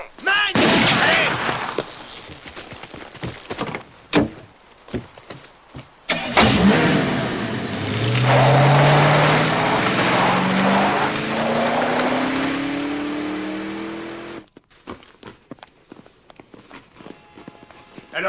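An engine revs up and a car pulls away at speed, a rising whine sweeping up over several seconds after hurried footsteps, door thuds and shouting, then cutting off into quiet scuffs.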